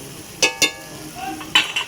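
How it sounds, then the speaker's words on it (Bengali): A spoon stirs frying prawns in a pan, giving a few sharp metallic scrapes and clacks over a soft background sizzle. "এই চামচটা দিয়ে নাড়ছি।"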